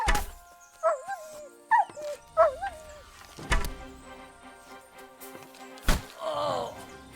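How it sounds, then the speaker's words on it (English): A dog in Kingdom Come: Deliverance II gives several short, high yelping barks in quick succession, followed by heavy thuds and whacks and a brief scuffle. "Someone call off that mutt!"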